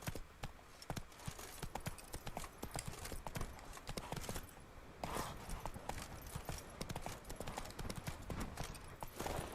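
Roach, the horse in The Witcher 3, gallops in steady rapid hoofbeats on hard ground, close and continuous, with a brief gap midway before the pounding resumes; faint game ambience sits underneath.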